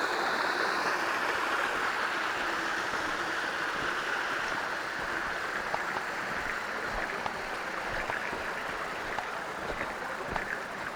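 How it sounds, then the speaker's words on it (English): Steady broadband rush of a creek waterfall in FDR State Park in November, constant and fairly close, with no talking over it. "Another beautiful waterfall."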